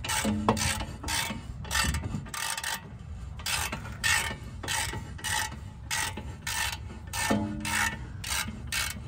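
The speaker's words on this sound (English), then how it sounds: "Got that ratchet in there." Ratchet wrench loosening bolts during an Airlift 3H air suspension install on a 2006 Lexus LS430, a steady series of rapid clicking strokes repeating close by with no talk.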